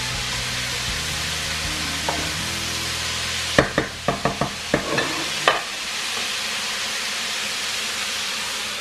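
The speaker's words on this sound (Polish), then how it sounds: "Dokładnie trzeba przemieszać sól tutaj z warzywami." A spoon stirs salted vegetables in a pan for Japanese keema curry, a quick series of about seven scraping knocks against the pan over a steady soft sizzle, close by, with no talking.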